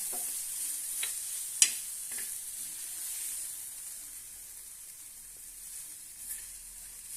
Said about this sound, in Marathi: आता आपली चटणी छानपैकी भाजल्या गेलेली आहे आता आपण काढून घेऊया